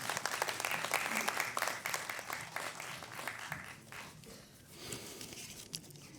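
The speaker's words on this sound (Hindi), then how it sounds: "ज़ोरदार तालियाँ" Loud audience applause at a humorous Urdu poetry mushaira, dense clapping filling the hall for several seconds before thinning out, with a faint voice underneath.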